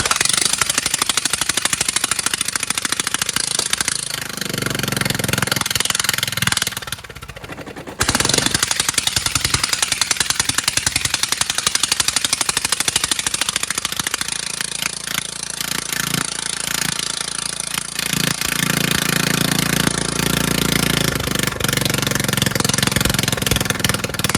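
A Toro Wheel Horse 1438 lawn tractor engine, freshly repowered, on choke, cranking and then running with a loud harsh clattering roar close by that drops out briefly once before carrying on steadily; no speech over it.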